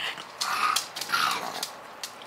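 A pet dog whines and growls in short, uneven bursts, close and fairly loud, with high whimpering cries rising and falling over about two seconds.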